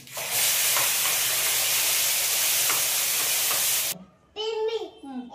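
A tempering of chana dal, curry leaves and dried chilli sizzles loudly as wood apple chutney goes in, giving a steady broad hiss for several seconds before it cuts off and a voice speaks.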